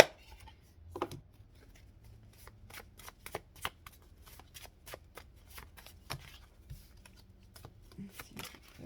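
Tarot cards being shuffled by hand, a close, quiet run of rapid riffling flicks and soft slaps in uneven bursts, with no speech.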